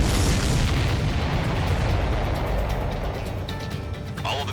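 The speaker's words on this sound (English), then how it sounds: "All of the missiles have been destroyed." Heavy booming explosions as missiles are destroyed in the Ace Combat 7 flight combat game, a loud rumbling blast that slowly fades, followed by a sharp new burst near the end.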